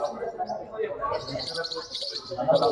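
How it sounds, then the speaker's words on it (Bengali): High chattering chirps from Forpus coelestis parrotlets fill a bird exhibition hall, bursts of close twittering mixed with someone speaking throughout. "আমরা আজকে যেসব ফরপাস দেখলাম সবগুলি হচ্ছে ফরপাস কোয়েলেস্টিস"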